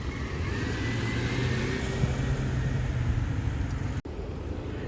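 Road traffic on a blocked city street in the Netherlands, a continuous rumble of idling and slowly moving cars with engine drone, loud and close, briefly cut near the end.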